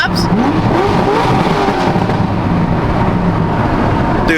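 A BMW M4 revs hard, its exhaust roaring loud and steady up close, with rising and falling engine pitch throughout.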